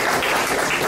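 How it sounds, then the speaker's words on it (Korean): An audience at a lecture and award presentation claps in a full, loud, continuous round of applause with no voices over it. "다시 한번 박수"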